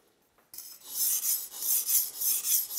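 A kitchen knife is sharpened on a soaked coarse-grit whetstone, giving rhythmic raspy scraping strokes repeated back and forth, close and clear, after a quiet start.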